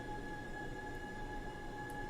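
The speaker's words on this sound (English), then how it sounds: "behind them they have the moving train" A moving train gives a steady rumbling roar with a sustained high whine, continuous and even throughout, with no talk over it.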